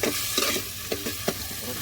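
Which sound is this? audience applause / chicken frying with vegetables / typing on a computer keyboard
chicken frying with vegetables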